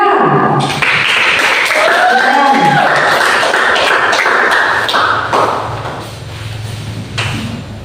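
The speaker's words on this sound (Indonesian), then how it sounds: "Tepuk tangan buat kelompok 3." A classroom of students claps for a group presentation, a burst of dense hand claps with sharp taps and thumps that thins out and fades toward the end.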